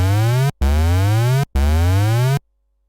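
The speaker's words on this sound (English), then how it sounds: "Now you can hear the pitch of the oscillator is being affected by another oscillator," A synthesizer oscillator plays a loud, steady tone whose pitch sweeps upward again and again, its rate driven by a second oscillator. The sweeps come in three bursts split by short gaps, then silence.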